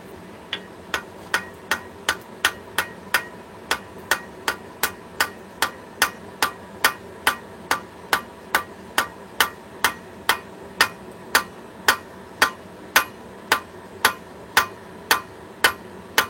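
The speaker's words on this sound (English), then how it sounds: "You don't want your hammer harder than your anvil." A hammer striking metal on an anvil in a steady, evenly spaced ringing rhythm, dozens of sharp, bright blows close by with no talking over them.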